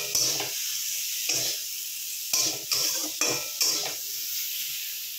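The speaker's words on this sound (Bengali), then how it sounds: "নুন আর জিরে গুঁড়ো দিয়ে আবার ভালো করে এটাকে কষিয়ে নেব।" Spice paste with turmeric, salt and cumin powder fries for a tangra fish curry, making a constant hiss broken by repeated spatula scrapes and stirs against the pan.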